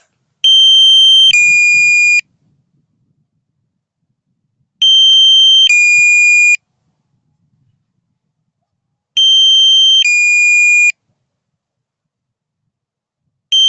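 Loud low-battery beeping from a DJI Mini 3 drone controller in regular bursts, each a pair of sustained two-tone beeps, repeating about every four seconds with quiet gaps between.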